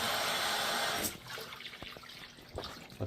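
Water draining out of a floor scrubber's tank after the hose is shut off, a broadband rushing gush for about a second that drops to softer trickling and drips.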